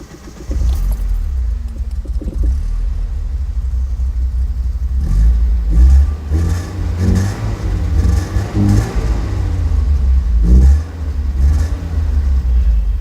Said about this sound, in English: I'm gonna start it up for you guys to show you how she sounds